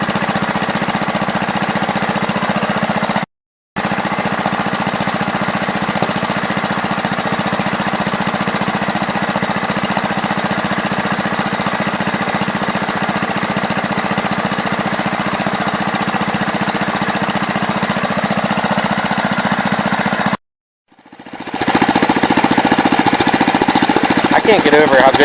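Case 526 tractor engine running steadily with the PTO engaged, a loud, even rhythmic chugging close by, with two brief dropouts and a rougher change near the end.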